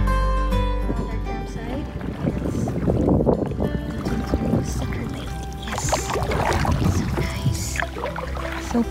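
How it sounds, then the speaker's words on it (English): Canoe trip across Sucker Lake in the Kawartha Highlands, with paddle strokes and water swishing close by over steady wind noise and a faint background hum, while people talk now and then. "we went for the 5-minute canoe ride to our campsite"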